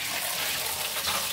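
Water pours steadily in a bathtub while a soaped dog is rinsed off, a broad continuous gushing and splashing that stays close and fairly loud, with no talking heard.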